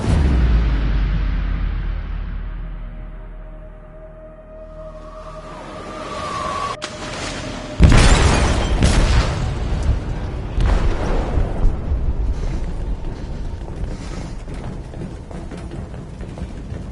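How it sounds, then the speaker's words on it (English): A deep explosion booms inside a ship's hold in a video game. After a quiet lull a sharp blast hits, then a long rumbling roar follows, with debris and mechanical clatter that slowly fades. "They detonated an explosive in the hold."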